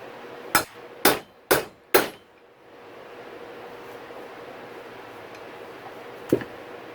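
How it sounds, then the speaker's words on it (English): A heavier hammer drives against a dirt bike steering stem bearing with four loud, evenly spaced metallic strikes up close, then a pause and one lighter knock near the end. "Let me get the heavier hammer."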